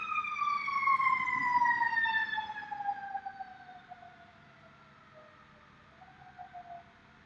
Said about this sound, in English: you guys hear that siren?